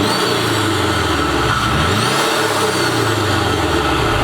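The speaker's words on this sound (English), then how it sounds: "you guys should be able to hear the supercharger now" A supercharged Subaru BRZ with a carbon fiber hood idles and revs, heard with the windows down, its steady engine drone joined by a rising and falling supercharger whine, loud and continuous throughout.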